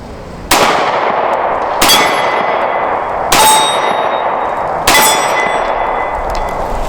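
A Japanese Type 94 Nambu pistol fires four sharp, ringing shots, spaced roughly evenly about a second and a half apart, each with a metallic clang and a short reverberant tail, with no talking.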